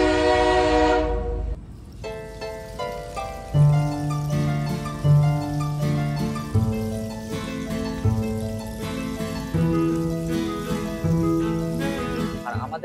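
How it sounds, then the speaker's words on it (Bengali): A train pulls out of Kanyakumari station, heard from inside a 3AC sleeper coach as a steady low rumble with rhythmic clunks and a long horn-like tone at the start, under ongoing talk. "আমাদের ট্রেনটা ছেড়ে দিল হচ্ছে কন্যাকুমারী স্টেশন থেকে"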